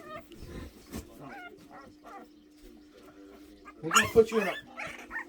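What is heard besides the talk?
Boston terrier puppy crying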